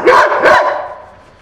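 A dog barks twice in quick succession, loud and close, with the second bark trailing off into a fading tail.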